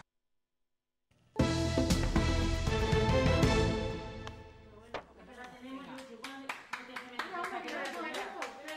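Medical and health staff at Hospital Santa Bárbara in Soria applauding a coronavirus patient leaving the ICU after 81 days, a burst of many hands clapping that starts abruptly, fades, then continues as scattered individual claps alongside voices.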